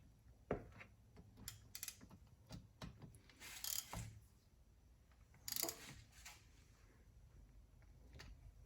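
Ratchet tightening the plug on a 2022 Ford Maverick rear differential, close and faint: a few irregular clicking pulls and metallic taps, with no talking.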